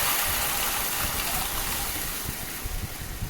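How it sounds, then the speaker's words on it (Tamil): Tamarind water and tomato water pour steadily into a pan for a rasam, a continuous close gushing, splashing wash that fills the space at a fairly even level with no talk over it. "அதுக்கப்புறம் கரைச்சி வச்சுருக்க புளியும் தக்காளி தண்ணியும் ஆட் பண்ணிக்கோங்க"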